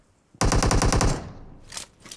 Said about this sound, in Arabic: ضربت طلقة ما طاح مع الشوتجن